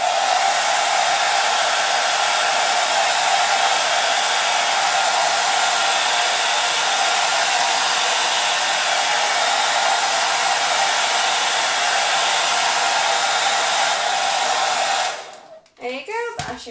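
A heat gun or hair dryer blows steadily onto a 6x6 peel-and-stick kitchen backsplash tile sticker, a loud unbroken whoosh for about fifteen seconds before it cuts off into a few short handling noises.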